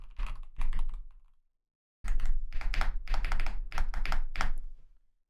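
Brisk typing on a new clacky computer keyboard: a short burst of crisp keystrokes, a brief pause, then a longer, denser run of loud, close clicks and clacks.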